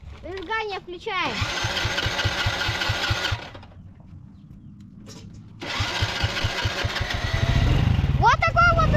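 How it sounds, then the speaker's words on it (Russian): Ural-type Russian motorcycle being kick-started: a sputtering catch settles into a loud, throbbing exhaust idle, dies back to near silence, then fires again into heavy rhythmic popping that grows louder at the end, with brief talk at the start. "Вот такой вот выхлоп у нас в заводе."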